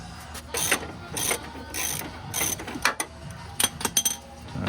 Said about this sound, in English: This seems like enough to get a regular ratchet on it.